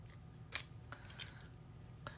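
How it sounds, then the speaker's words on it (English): Scissors snip through yellow-painted paper during a colour-mixing demonstration, a few faint, sharp clicks spread out over a low room hum. "scissors."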